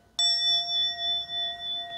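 A single meditation bell, a seated temple bell, is struck once and then rings on with a steady, clear, sustained tone that slowly pulses as it decays, heard alone in a quiet room.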